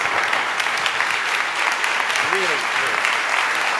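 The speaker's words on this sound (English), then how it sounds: "Please give him a great big round of applause." An audience applauds at a launch event in New York City, steady, dense clapping filling the room from start to finish while a voice briefly speaks over it.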